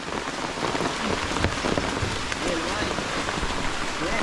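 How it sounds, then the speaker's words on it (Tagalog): Dense, heavy rain pours steadily onto a surface, a constant close hiss of drops with a few louder splashes. "Bigla pong tumudo ang ulan."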